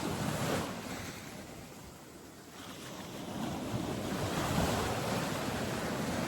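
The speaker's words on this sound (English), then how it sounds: "so nice to be here watching the waves coming in" Ocean waves rolling onto a foggy beach with surfers offshore: a continuous wash of surf that swells and eases, with wind noise on the microphone and no voices.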